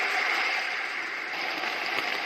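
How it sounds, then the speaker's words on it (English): Rain track from a Roffie white noise machine: a dense, even hiss of steady rainfall holding at constant loudness throughout, with no speech. "This is the sound of rain."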